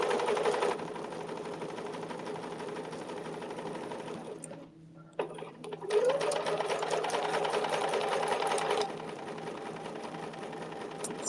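A sewing machine stitches fabric in a steady, loud run that pauses briefly partway through, then resumes at full speed before easing slightly near the end, with no voices over it.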